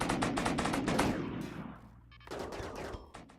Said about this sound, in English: Oh, they do have shotguns.